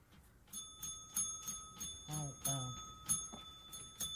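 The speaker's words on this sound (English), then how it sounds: "Elmo better ring bell." A small bell in the Fix It Shop rings in a quick series of bright, thin dings, fairly quiet, with a brief voice-like sound partway through.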